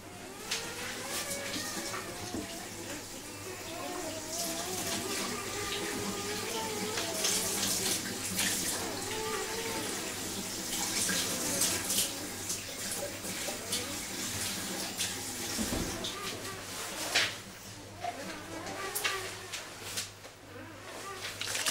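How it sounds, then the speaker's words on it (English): Lukewarm tap water runs steadily into a container for mixing, a continuous splashing rush heard close up, with low background hum and occasional clinks. "I'm just going to put some ordinary sort of lukewarm water. It's so easy to mix this from the tap."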